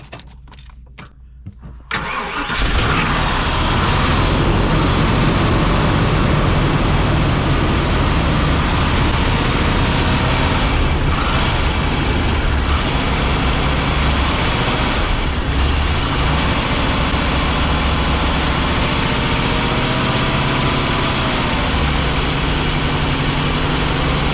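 An RV engine, cold and slow to idle, cranks over after the gas pedal is pumped, catches within a couple of seconds, then settles into a loud, close, steady idle that runs on unbroken.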